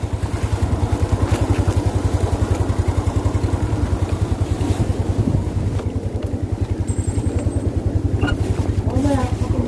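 A Yamaha Mio Sporty scooter engine drones steadily while riding on the road, a loud, rapid, even putter with wind rush close up throughout, and people talk over it briefly.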